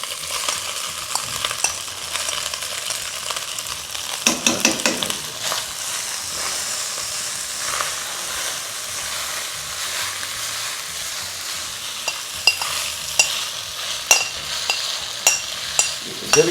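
Rice for garlic butter rice is stirred and mixed in a pan, with a continuous soft sizzle, repeated scraping strokes and occasional clinks of the spoon against the pan.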